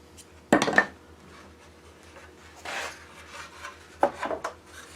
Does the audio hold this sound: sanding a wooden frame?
yes